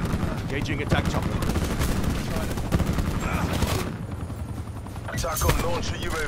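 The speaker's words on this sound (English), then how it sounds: "Enemy attack chopper above." Attack helicopter in the Call of Duty Black Ops 4 video game, a steady rotor roar heard amid dense gunfire and explosions, loud and continuous with game voice lines over it.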